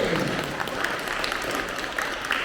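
Applause from a teacher training day audience, a steady, dense wash of clapping that carries on evenly throughout with no voices over it.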